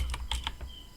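A computer keyboard typing a hostname during a Proxmox 6.2 installation: a quick burst of about five close, crisp keystrokes within a second, with no voice.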